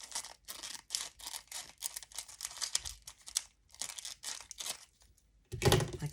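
Scissors cutting down the side of a paper or plastic package, a close series of short crinkling, snipping rustles in irregular bursts, ending with a louder thump and no talking.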